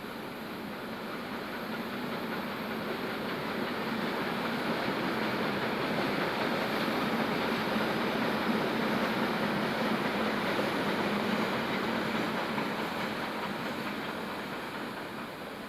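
A big Swiss locomotive hauls a train up a steep hill-station gradient by adhesion, a steady loud rumble of running gear and rail noise holding for the whole stretch with no talk.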